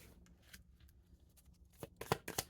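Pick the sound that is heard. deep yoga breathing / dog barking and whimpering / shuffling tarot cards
shuffling tarot cards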